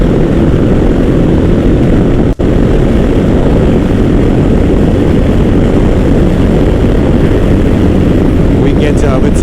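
A modified Suzuki DR650 motorcycle accelerates at highway speed, a loud, steady engine roar mixed with heavy wind rush that runs unbroken through the whole stretch.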